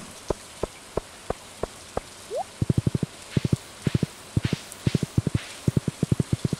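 Rain in the video game Stardew Valley, a constant soft hiss of falling rain beneath a quick, uneven run of crisp clicking taps that sound like footsteps.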